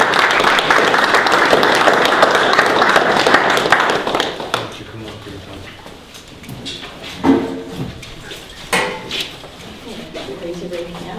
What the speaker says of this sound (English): I think that deserves a round of applause for Kim.